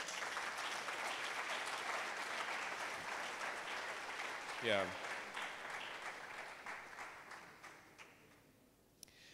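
Sustained audience applause fills a hall during a university engineering event, steady broadband clapping that carries on for most of the stretch and thins out near the end, with a brief spoken word heard over it.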